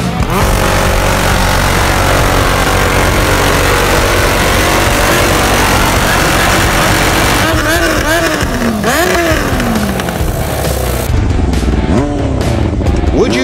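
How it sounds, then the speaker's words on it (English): An M134X Interceptor motorcycle with a Tailgunner exhaust, a loud, close, continuous engine roar that rises and falls in pitch through several revs toward the end. "Tailgunner exhaust M134X Interceptor."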